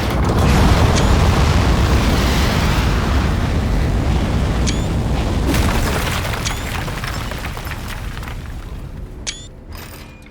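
Rocket liftoff in the Aperture Desk Job video game: a loud sustained roaring rumble with mechanical clanks and ratcheting clicks, gradually fading slightly toward the end.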